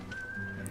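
A person whistles along to the music of the video game Deadly Premonition, producing one sustained steady tone about half a second long over quiet game music.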